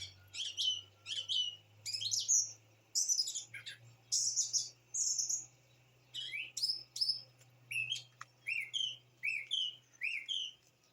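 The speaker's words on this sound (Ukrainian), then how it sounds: "Он як чудово співають птахи після дощу." Several birds sing bright, varied chirps and whistles in quick bursts after rain in the countryside, with a low steady hum underneath and no voices.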